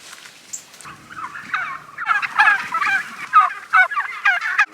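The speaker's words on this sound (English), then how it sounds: "It would appear we've stumbled across a turkey farm. There are lots and lots of turkeys here" A flock of turkeys on a farm near Dartmoor gobbles loudly and close by, with overlapping rapid warbling calls that build into a near-continuous chorus.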